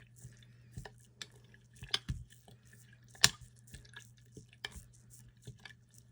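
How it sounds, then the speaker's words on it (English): Fabric stuffed into a jar of paint and stirred and mushed around, giving soft wet squishes and small drips in an irregular rhythm, close and fairly faint over a low steady hum. "I just take my fabric and I stuff it down inside the jar and down inside the paint, stir it around, mush it around"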